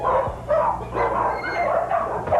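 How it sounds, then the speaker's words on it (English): Dogs barking inside a house where cats and dogs are left alone in cages, repeated loud barks and yips every half second or so, with some whimpering between them. "You can hear the cats and dogs when you go in there."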